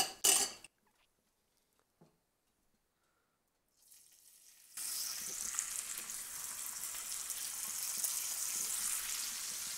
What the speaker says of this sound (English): It's everything you've ever wanted in a bacon sizzle